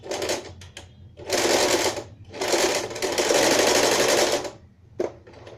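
Sewing machine stitching fabric for fringe pajamas, running in several close, loud bursts of steady rapid needle whirring, the longest about two seconds, with short pauses and a brief clack near the end.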